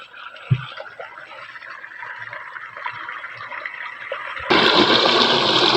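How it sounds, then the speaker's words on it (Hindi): Irrigation water, canal water mixed with tubewell water, gushes steadily into an organic orchard with a continuous rushing flow that swells noticeably louder near the end. "ये हमारा पानी जो जा रहा है फ्लटर बाग को जा रहा है।"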